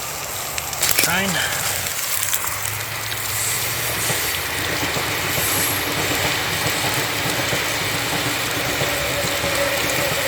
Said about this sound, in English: The train line is just there, right behind those trees.